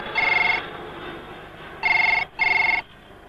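A telephone rings three times, each ring a bright electronic trill, with quiet gaps between them.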